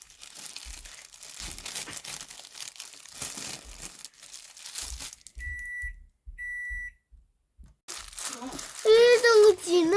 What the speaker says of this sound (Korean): 이제 어린이 비닐 장갑을 끼세요.